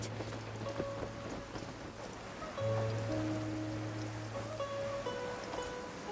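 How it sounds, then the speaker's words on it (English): Heavy downpour in the Genshin Impact video game, a steady wash of rain hiss that thickens partway through, with a low sustained hum and a few faint tonal game sounds over it, no talking. "Taking a stroll in the middle of a downpour certainly rouses the spirit."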